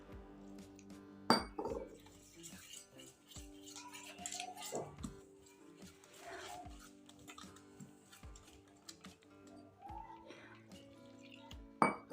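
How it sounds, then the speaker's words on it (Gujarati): Close spoon-and-bowl clatter as water is added to fritter batter, with occasional sharp clinks and wet stirring sounds, intermittent and quiet, with a voice speaking softly now and then. "હવે આપણે અંદર થોડું થોડું પાણી નાખી અને ખીરું તૈયાર કરી લઈશું"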